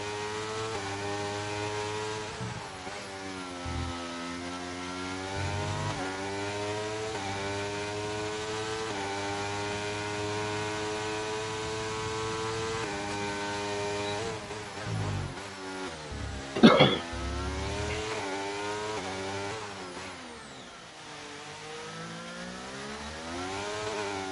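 A race car engine screams through a hot lap at Singapore in a racing video game, its pitch climbing and dropping through repeated gear changes, with one sharp burst midway and no speech.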